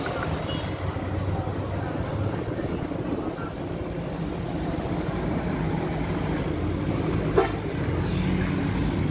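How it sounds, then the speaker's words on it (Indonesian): A Titan Mas bus in eye-catching livery rolls along an Indonesian road, giving a steady, broad engine and road rumble that holds at an even level throughout, with no sharp peak as it passes. "Ada bus livery keren yaitu Titan Mas."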